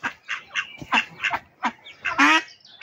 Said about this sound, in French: Alors ici, on a un couple de canards connus.